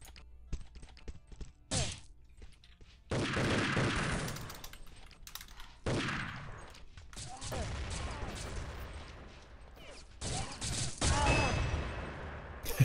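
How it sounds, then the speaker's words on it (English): Grenade explosions and rapid weapon fire in a Quake Live match, loud bursts of blasts and rattling shots alternating with brief quiet gaps, with faint keyboard clatter beneath. "Nice exchange there of grenades."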